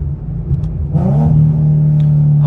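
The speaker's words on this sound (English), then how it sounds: "let me take it for a drive" A Nissan G37/370Z fitted with a polyurethane transmission mount pulls away as its engine revs up, a loud, close steady drone that rises in pitch and then holds, with no voices.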